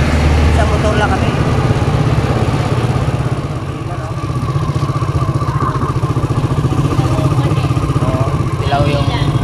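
A motorcycle engine runs steadily with a low rumble while riding in traffic at a traffic light in Manila, with faint talk and street noise around it.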